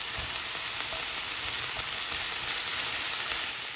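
Onions fry in very hot vegetable oil in a pan, giving a steady, bright sizzle and hiss with a few soft crackles, heard alone at moderate loudness.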